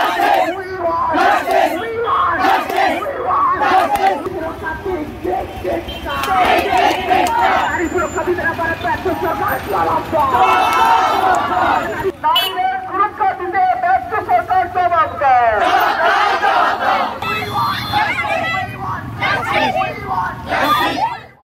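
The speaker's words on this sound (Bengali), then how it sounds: "বিভিন্ন স্কুল কলেজের ছাত্রছাত্রীরা মিলে মোথাবাড়ি পিডব্লিউডি ময়দান থেকে মিছিল বের করে উই ওয়ান্ট জাস্টিস স্লোগান তুলে ধরে সোচ্চার হয়" Students from schools and colleges march through Mothabari in Malda, loudly chanting protest slogans for justice, a rhythmic crowd roar rising and falling in bursts with shouted calls and answers throughout.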